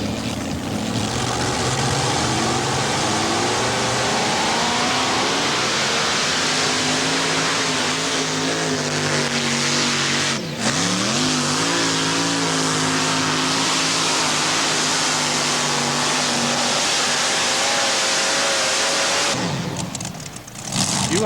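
A modified tractor pulling at the Ohio State Fair roars at full throttle, a loud sustained engine howl that dips briefly midway, then rises again and cuts off near the end.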